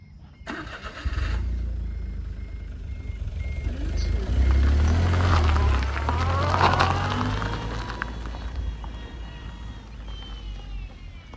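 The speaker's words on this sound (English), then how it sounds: "That sounds like a truck, not a semi truck." A truck engine rumbles nearby, growing louder as it passes, with a low throaty roar and squeaks, then slowly fades away.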